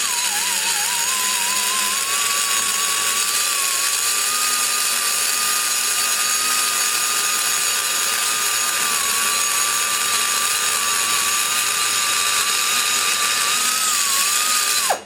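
A rotary cutter held at slow to medium speed grinds material from a Chevy LT1 part, a steady high whine running continuously and loudly for the whole stretch before cutting off abruptly at the end.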